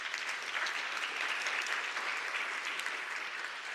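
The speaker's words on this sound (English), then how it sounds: "Please give him a round of applause if you would" A round of applause from the audience at a keynote lecture, steady dense clapping that holds evenly throughout, slightly distant and moderately quiet, with no voices on top.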